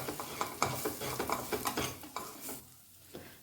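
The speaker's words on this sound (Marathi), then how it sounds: "सगळे मसाले आपल्याला व्यवस्थित भाजून घ्यायचे आहे।" Spices including coriander powder and garam masala dry-roast in a pan with a soft sizzle and repeated scraping strokes of a stirring spoon, close and fairly quiet, ending in a near-silent pause.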